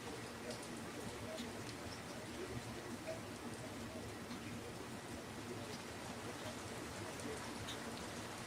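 Steady rain falls for the whole stretch as a faint, even hiss with scattered drops. No single patter stands out, and the background stays quiet and constant.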